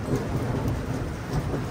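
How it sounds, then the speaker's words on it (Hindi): Heavy rain pours steadily in Kathmandu, a dense, even hiss of falling water with a low rumbling undertone, continuous and fairly loud with no voices. "काठमांडू में बहुत ही बारिश होने लगी यार"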